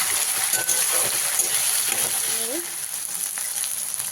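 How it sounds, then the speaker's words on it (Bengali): Tomato and ginger paste fries in a pan with a constant bright sizzle, punctuated by a few faint metallic scrapes of a spoon, close and steady. "আদা বাটা দিয়ে দিলাম এক চামচ টমেটো দিয়ে ভালো করে ভেজে নেব"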